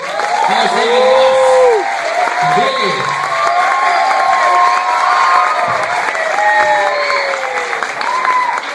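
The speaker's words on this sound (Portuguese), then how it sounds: "Então palmas para ele" A crowd at the Carioca Anime convention applauds and cheers for a guest, loud and close, with whoops and shouted voices rising over continuous clapping.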